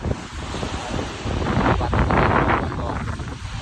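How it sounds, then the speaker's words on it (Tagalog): Rough sea surf crashes and roars against the shore while strong wind buffets the microphone, a dense, loud, continuous wash swelling in the middle. "sa likuran ko ay uh, nagwawala yung alon"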